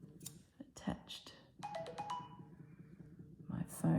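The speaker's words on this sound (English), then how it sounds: "My phone is buzzing." A mobile phone goes off indoors during a quiet sewing session, a short burst of electronic alert tones cutting through a person talking at the workbench.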